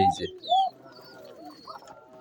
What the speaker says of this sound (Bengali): খুবই ছোট অল্প জায়গার মধ্যে এই যে এতগুলো কবুতর